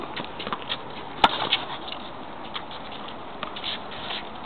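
Light rain patters on an outdoor frontenis court during a singles match, a soft, steady sprinkle of drops with a single sharp knock early on and no talk.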